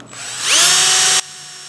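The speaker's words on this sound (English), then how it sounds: "And we're going to drill both of those." A power drill spins up with a rising whine, drilling holes for buck rivets, runs at full speed for under a second, then stops abruptly. Close and loud.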